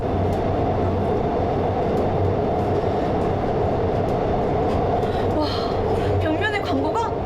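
Steady rumble of a subway train running through a tunnel, loud and continuous, with faint higher squeals and rattles near the end and a voice speaking over it.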